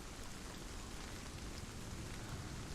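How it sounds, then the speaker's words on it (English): Rain falls steadily as a dense, even hiss in the Hellblade: Senua's Sacrifice VR video game, soft and continuous with no voices over it. "Back into the rain."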